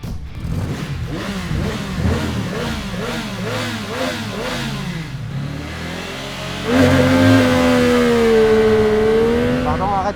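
Heavy Indian Chieftain Power Plus custom cruiser pulling hard from a standing start, its big engine revving through rising sweeps and gear changes, then a louder sustained high drone near the end.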